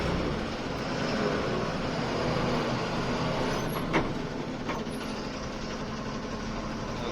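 Truck rolling along a badly broken road near Manjavadi pass between Uthangarai and Salem, a constant loud engine drone and road rumble from inside the cab with a couple of faint rattles.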